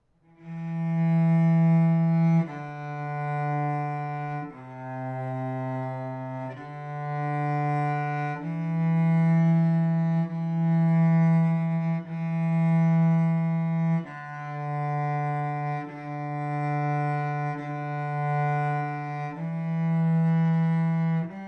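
A cello plays Mary Had a Little Lamb slowly, each note drawn with a full whole bow, giving long sustained tones of even length in a steady, unhurried sequence, clear and close with no talking.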